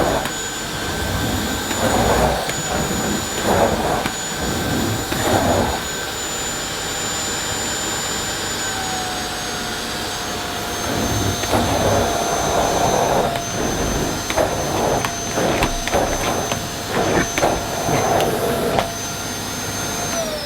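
A Miele Boost CX1 Cat & Dog vacuum cleaner runs on plush pile carpet, a steady high motor whine with a drifting tone and rhythmic surges of brushing noise as the nozzle is pushed back and forth.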